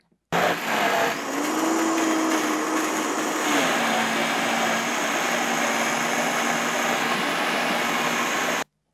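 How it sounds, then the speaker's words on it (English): A countertop blender whirs loudly and steadily for about eight seconds, purring jalapeños, cilantro, lime juice and avocado oil into a creamy sauce, with the motor pitch dipping slightly as the mixture thickens before it cuts off abruptly. "You just blend this all up till it's nice and creamy and smooth."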